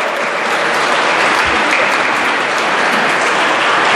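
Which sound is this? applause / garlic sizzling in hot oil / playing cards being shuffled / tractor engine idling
applause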